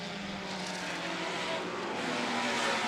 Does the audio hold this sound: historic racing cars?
yes